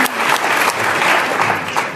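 A room full of people gives a hearty round of applause for panel speakers at a perioperative medicine session, loud continuous clapping with no talk over it.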